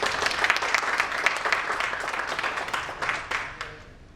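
Audience applause at a medical travel event in a hotel, a dense burst of clapping from a sizable crowd, loud at first and gradually thinning out toward the end.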